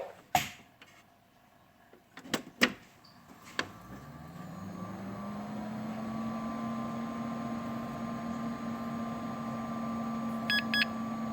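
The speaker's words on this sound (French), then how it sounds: "Maintenant le bip bip il est bizarre donc il fait plus le bip bip" A few sharp clicks and knocks, then a Dell Dimension 8300 computer with a partly faulty power supply whirs up and hums steadily, with a short series of quick electronic beeps near the end.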